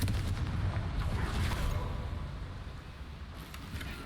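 A fiery Confringo spell erupts in Hogwarts Legacy as a loud, rumbling explosion that roars at the start, then slowly fades into a lingering low crackle.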